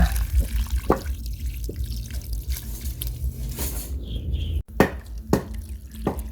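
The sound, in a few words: water spraying onto red ant eggs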